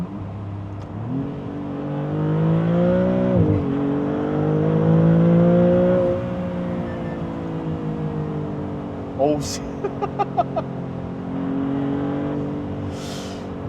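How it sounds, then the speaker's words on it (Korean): A Maserati MC20 accelerates in sport mode with its exhaust flaps open, the engine note rising and falling loudly for several seconds, followed by a few sharp exhaust crackles near the end; someone speaks briefly over it. "스포츠 모드로 바꿔서 속도를 한번 내보겠습니다."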